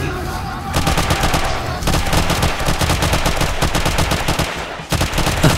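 Rapid bursts of gunfire aimed at zombie heads in the game 7 Days to Die, sustained and loud throughout with dense repeated shots, no speech over it.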